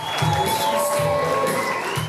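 A crowd cheers and whoops enthusiastically at a Mike Pence political rally in Bozeman, a sustained roar of many voices filling the whole moment.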